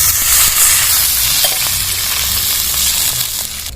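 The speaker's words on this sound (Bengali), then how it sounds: "ভালো করে মশলাটা কষিয়ে নেব যাতে আদার কাঁচা গন্ধটা না থাকে" Ginger-spiced masala paste sizzles steadily in a hot pan while being stirred for vegetable khichdi, a continuous loud frying hiss with faint scraping, no voices.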